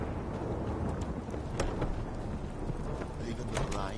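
Steady rain in the fantasy game The Witcher 3: Wild Hunt hisses as an even, unbroken wash, with faint scattered clicks and thuds mixed in and no one speaking.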